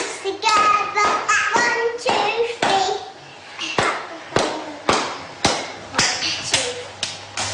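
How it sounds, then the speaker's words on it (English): Hands clapping in a quick, uneven series of sharp, close claps, with a voice singing faintly alongside. "Clap your hands together"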